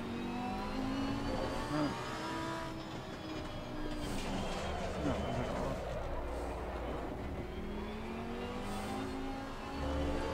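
A car engine in a racing video game set in Mexico drones steadily as the car is slowly parked, with a low, continuous rumble and faint rise and fall in revs throughout.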